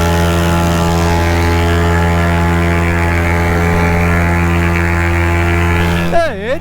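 Rebuilt paramotor engine held at full throttle during a climb, a loud steady propeller drone with a constant pitch for about six seconds, then a brief pitch swoop near the end.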